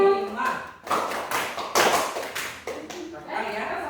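A group hand-clapping game at an ice-breaking session, with bursts of claps and taps mixed with voices and shuffling; no clean count of five claps stands out.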